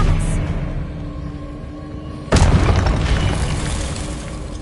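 In the Hogwarts Legacy video game, an Expelliarmus spell effect lands as a sudden loud boom partway through, giving way to a bright crackling burst that rings and fades over a rumbling game background.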